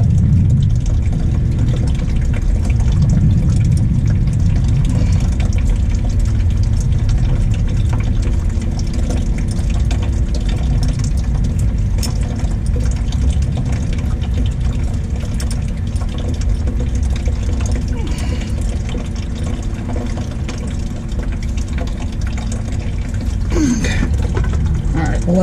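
Coolant drains from a radiator hose on a Ford F-350 with the 7.3 IDI diesel, a steady low rushing trickle that runs continuously and fairly loud for the whole stretch.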